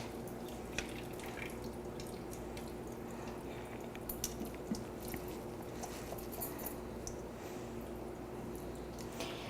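Water draining and dripping from cooked pasta as it is shaken in a kitchen strainer, a soft, fairly faint patter of drips and trickles throughout.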